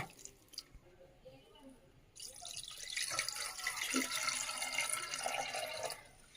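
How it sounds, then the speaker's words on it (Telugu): Water poured into a pot of mutton for boiling, a close, continuous splashing stream lasting a few seconds after a quiet start, then tapering off, with no talk. "వన్ టీ గ్లాస్ వాటర్ అయితే వేసుకోవాలి."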